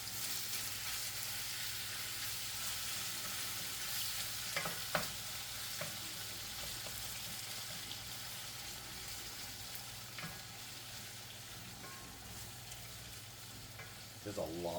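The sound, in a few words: food frying in fat in a large fryer pan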